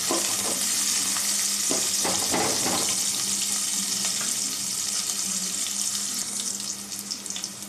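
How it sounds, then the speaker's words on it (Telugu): Onions frying in a pan until reddish brown, a steady loud sizzle with occasional stirring scrapes, close up and continuous with no talking. "బాగా ఎర్రగా వేగేంత వరకు వేసుకోవాలి."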